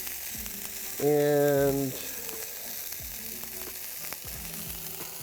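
Chicken sizzles steadily as it browns in a hot pan, a constant frying hiss throughout, briefly overlaid by a short tonal sound and light utensil clicks, with a voice speaking briefly.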